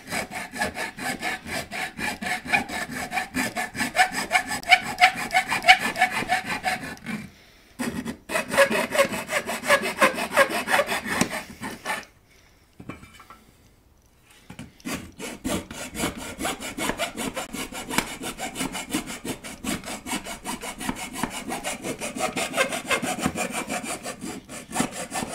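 A saw cuts a transformer hole in an amp chassis with a rapid, steady back-and-forth rasp, close and continuous, broken by two short pauses.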